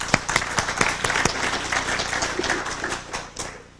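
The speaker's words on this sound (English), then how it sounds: "A little round of applause for John." A small audience claps for John DeCamp, author of the Franklin cover-up book: sharp individual claps at first, blending into a brief patter of applause that thins out within a few seconds.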